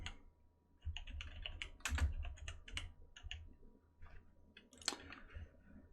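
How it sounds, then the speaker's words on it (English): Someone types on a computer keyboard, with quiet, irregular bursts of key clicks close by in an otherwise calm room, and no voices. "Let me type this in."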